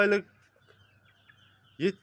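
Chickens cluck in short bursts, one near and loud at the start and again at the end, with faint chirping in between.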